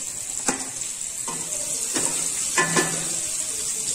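Onions and julienned capsicum fry in a pan for a pulao, with a steady sizzle running throughout and several short scraping knocks as the vegetables are stirred.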